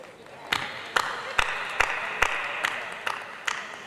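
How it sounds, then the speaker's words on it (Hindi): An audience at a Hindi poetry event claps in a steady, evenly spaced rhythm, loud sharp claps roughly every half second over a roomy background murmur. "एक बार जोरदार तालियां बजा दीजिए।"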